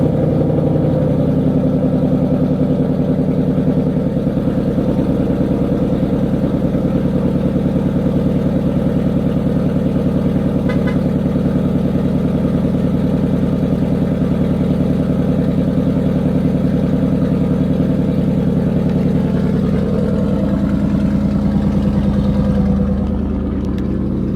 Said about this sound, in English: I'm gonna go ahead and show you guys a little cold start with the Borla S-type.